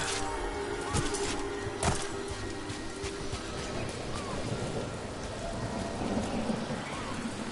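Heavy rain pours in the Dragon Age: The Veilguard video game, a loud continuous wash with a few sharp cracks and rumbles of thunder and no speech.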